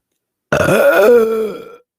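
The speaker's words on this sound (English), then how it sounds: "Oh, there's a big belch coming." One long, deep burp, loud and close, rumbling for over a second before trailing off into silence.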